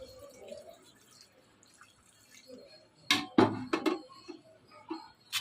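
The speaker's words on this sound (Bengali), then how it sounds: "এখন আমার পরিমাণ মতো আমি ঝোল দিয়ে দিচ্ছি।" Broth is poured into a pan of rohu fish and papaya curry, heard as a short cluster of splashing, dripping bursts midway through an otherwise quiet kitchen background.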